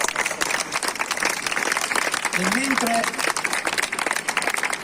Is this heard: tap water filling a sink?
no